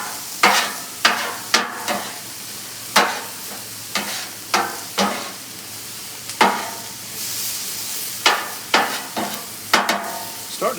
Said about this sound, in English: Get our onions all nice and darkened up.